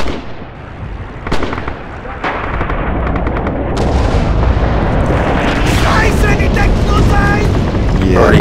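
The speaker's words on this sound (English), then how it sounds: "Russian artillery in B." Russian artillery barrage in the Red Orchestra 2 video game, with heavy booming blasts and rumbling explosions layered over a dense, continuous battlefield din as players talk over radio.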